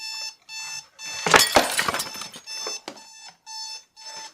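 A bedside alarm clock rings loud and close in repeated short electronic bursts, broken by a louder clattering, shattering crash in the middle before the steady ringing pattern returns.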